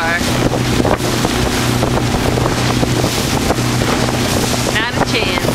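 Motorboat riding over waves, its engine droning steadily under heavy wind buffeting, loud and close throughout, with brief voices breaking through.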